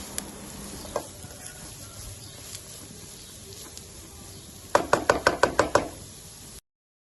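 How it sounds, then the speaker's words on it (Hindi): Finely chopped carrots sautéing in a pan for a Chicken Manchurian and Chinese rice dish, a steady low sizzle throughout, a single knock early on, then a quick run of six sharp utensil knocks against the pan near the end. "पाँच से 6 मिनट के लिए गाजर को भूनेंगे।"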